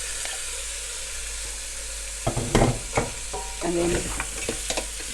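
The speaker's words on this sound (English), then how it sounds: "mix it all together" A spoon stirs beef stew with its juices in a pot, bursts of scraping and wet clinking over a low sizzle, close and moderately quiet, with a brief spoken phrase.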